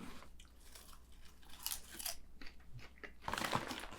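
Someone munches reheated movie theater popcorn, with soft crunches and chewing bites spread irregularly up close, a louder cluster of crunching near the end, and no talking.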